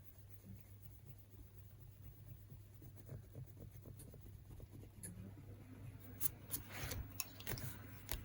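Holbein colored pencil scratching across drawing paper, a faint close continuous scraping with quick strokes growing busier toward the end, no talk over it.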